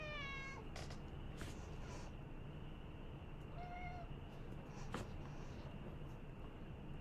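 A pet cat named Lelouch gives a couple of short, faint meows over quiet room noise, with a few soft scratchy sounds nearby.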